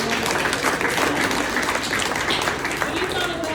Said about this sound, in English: Let's give a round of applause for Joe and all of the committee members